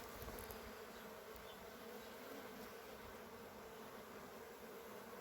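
A dense, steady hum of many honeybees buzzing together at a hive, continuous and close, with no other sounds breaking through.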